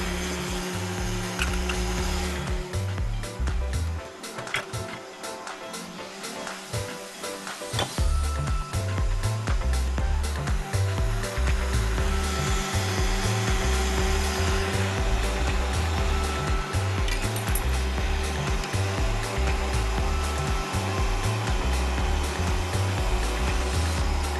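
An electric hand mixer whirs steadily through chocolate cake batter, a continuous motorized buzz that dips briefly and then resumes at full speed, close and loud with no talking.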